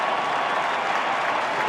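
A large ballpark crowd applauds and cheers steadily at a ceremonial first pitch with former President George H.W. Bush, a dense, continuous roar of clapping throughout.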